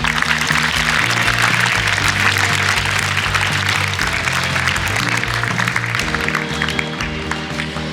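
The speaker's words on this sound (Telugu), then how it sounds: "మన చక్రవర్తి గారికి, అలాగే మన మాణిక్యాలరావు గారికి గట్టిగా చప్పట్లు కొట్టండి" A crowd claps loudly and continuously at a youth basketball championship event in Pithapuram, the dense clatter running for several seconds over steady background music.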